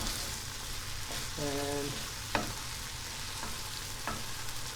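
Mushroom ragu simmers in a pan with a soft, steady bubbling hiss. A few scattered utensil clicks and light stirring sounds come through, along with a brief tonal beep, all fairly quiet.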